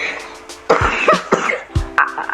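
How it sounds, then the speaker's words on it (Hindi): Several short, close, loud coughs, about three or four, come in quick succession with brief gaps between them, alone without talk. "मेरे को थोड़ी बहुत खांसी है"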